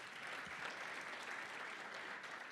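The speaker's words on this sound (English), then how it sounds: "A round of applause, please," Steady applause from an audience at an occupational health and safety conference, a continuous wash of clapping heard at a quiet, slightly distant level.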